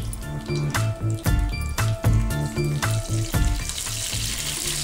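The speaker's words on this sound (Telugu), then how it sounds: "ఇప్పుడు జీలకర్ర ఆవాలు వేసుకుందామండి మనము. ఈ చిటిపట్లు ఆడాక పచ్చిమిర్చి వేసుకుందాం." Cumin and mustard seeds splutter in hot oil for aloo bath, a loud, close crackling sizzle with rapid pops that runs under rhythmic background music.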